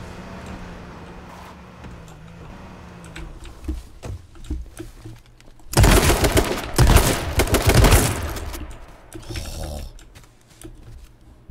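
Shotgun blasts in the battle royale game H1Z1 King of the Kill ring out as a dense, loud burst of several rapid shots in the middle, with quieter game ambience and faint clicks before and after.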